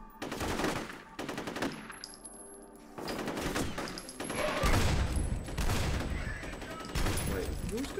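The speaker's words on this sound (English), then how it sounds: "who's got a shotgun against me?" Heavy gunfire erupts in the shooter game F.E.A.R., with loud, dense bursts of shots that come in clusters with brief lulls and strong, echoing blasts in the later seconds.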